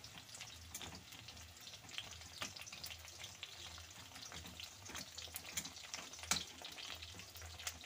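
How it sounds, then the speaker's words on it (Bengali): Chicken pakora fries gently in oil over low heat, giving a soft, continuous crackle with scattered pops and bubbles; quiet and close, with no voices. "চুলার আঁচটা কম রেখেই ভাজতে হবে, না হয় পুড়ে যাবে"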